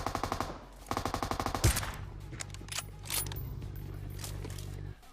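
Rapid sniper and automatic gunfire bursts in the battle royale game PUBG, two quick rhythmic volleys followed by a single loud crack, then a sustained low engine-like hum and scattered distant shots, with no talking.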